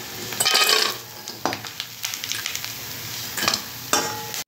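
Small mourola fish frying in hot oil in a pan, with a steady sizzle broken by occasional sharp clinks and scrapes of a utensil against the pan.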